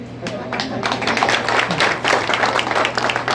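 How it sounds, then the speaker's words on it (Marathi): A crowd at a Lok Sabha election rally for minister Rane keeps up brisk, continuous clapping, with individual claps popping out of a close, even wash of applause and faint voices mixed in. "सत्तावीस टाळ्या पडले टाळे नाही"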